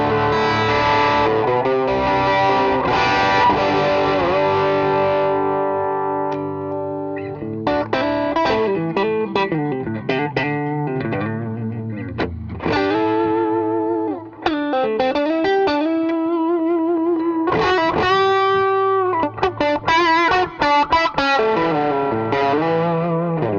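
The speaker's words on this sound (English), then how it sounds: "what we're going to get is we're going to get the overdrive preamp from the Dual Clons" Electric guitar through the overdrive preamp channel of a Dual Clons amplifier, played alone with sustained distorted chords and then choppier riffs and bends, loud and continuous throughout.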